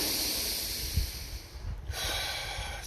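Slow nasal exhale during a relaxation breathing exercise, a soft airy hiss that fades out near the middle and then returns, close and quiet with no talking.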